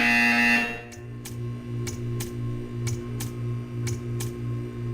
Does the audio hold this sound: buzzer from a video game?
yes